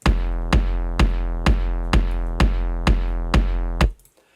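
A layered techno kick drum thumps eight times at a steady pace, each hit deep and punchy with a bright click on top and a short decaying tail, played alone before stopping.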